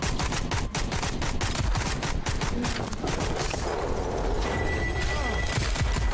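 Rapid gunfire from an upgraded weapon in the Sker Ritual shooter, a quick run of sharp close shots in the first seconds that gives way to a thick, steady wash of combat noise, loud and sustained throughout.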